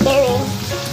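King prawns and asparagus stir-frying in garlic sauce, a steady close sizzle with faint stirring, no talking.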